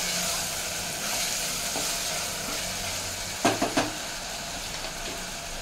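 Green chillies and chopped tomato crackle and sizzle in a pan over a medium flame, with a steady hiss and a few sharp clinks of stirring utensils partway through; no voices.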